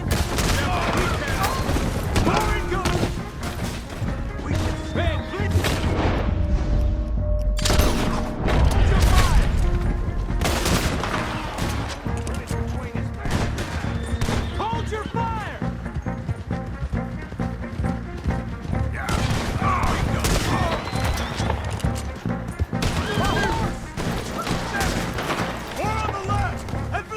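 Rapid bursts of gunfire crackle almost without pause during a stagecoach chase in Red Dead Redemption 2, with heavy booms, clattering mechanisms and shouted voices mixed in over the din.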